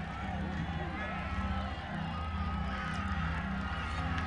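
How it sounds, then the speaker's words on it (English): A crowd murmurs and stirs as it files into Independence Stadium for a 2005 high school football game between Bastrop and Breaux Bridge, a dense, steady babble under play-by-play commentary. "the crowd is still filing into Independence Stadium"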